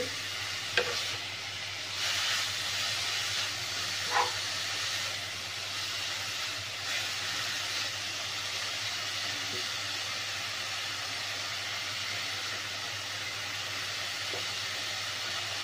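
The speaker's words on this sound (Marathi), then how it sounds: "आपल्याला हा भोपळ्याचा किस चार ते पाच मिनिटे परतून घ्यायचं आहे" Grated bottle gourd sautéing in a pan for halwa, a steady soft sizzle with occasional scrapes and stirs from a spoon, fairly quiet and continuous with no talking.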